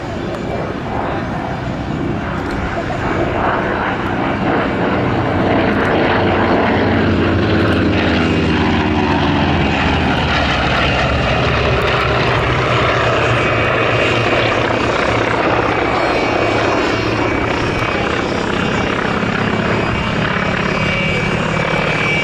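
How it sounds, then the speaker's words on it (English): Three propeller naval fighters, a Grumman FM2 Wildcat, F8F2P Bearcat and Goodyear FG1D Corsair, roar past at an air show, a loud sustained piston drone with pitch sweeps as they pass, a commentator speaking over it. "running in the three naval fighters from the fighter collection, the Grumman FM2 Wildcat and F8F2P Bearcat and the Goodyear FG1D"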